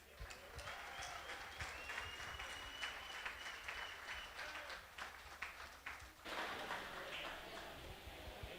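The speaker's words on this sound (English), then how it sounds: "a big round of applause for our guest from Colombia" Applause for a guest from Colombia at a fight league event in an athletic centre, a quiet, distant crowd clapping that keeps going and swells slightly near the end.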